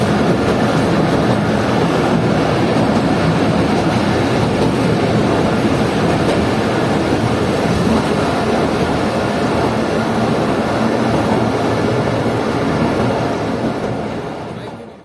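Chaman Passenger train rolling steadily, heard from inside the last coach with wire-mesh window grilles: a loud, continuous rumble and rattle of wheels and carriage that holds for the whole stretch, then fades at the very end.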